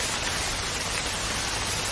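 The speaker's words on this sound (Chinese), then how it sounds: "哎呀， 下雨了" Steady rain falls in the mountains during a thunderstorm, an even, hissing wash of drops filling the whole short stretch with no voices.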